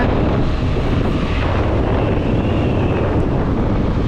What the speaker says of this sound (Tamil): ஸோ காற்றும் ஜில் ஜில்னு காற்றடிக்குது.